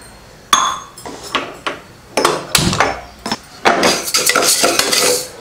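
Dry moong dal, split green gram, tumbling and clinking into a metal pressure cooker, a series of sharp rattling metallic knocks and scrapes close up, growing busier toward the end.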